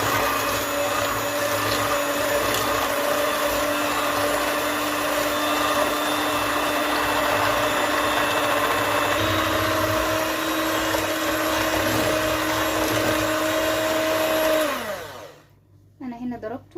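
Electric mixer beating butter and sugar for a pasta frola dough, a steady loud whirring drone that holds for a long stretch and then cuts off abruptly, leaving a few faint clatters.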